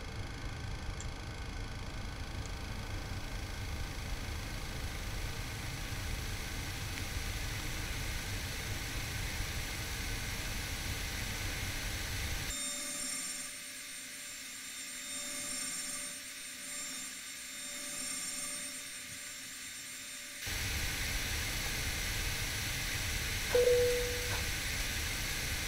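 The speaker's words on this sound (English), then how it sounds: "APU starting up" In the X-Plane flight simulator, an aircraft APU starts up inside the cockpit: a steady broadband whine and hiss, loud and continuous, dipping briefly in the middle before returning at full level.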